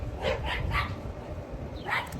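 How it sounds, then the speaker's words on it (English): A dog barks several times in quick succession, then pauses before one more bark, fairly close against a rumbling background. "And there go my dogs."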